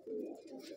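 Pigeons in a crowded pigeon shop give a soft, close, throaty coo lasting under a second.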